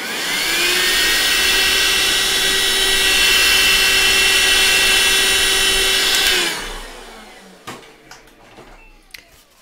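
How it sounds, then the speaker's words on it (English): A vacuum cleaner whirs steadily and loudly over a pastel painting on Pastelmat, a constant motor drone with a fixed tone that cuts off abruptly after about six seconds, leaving quiet handling knocks and clicks. "I'm going to vacuum this area."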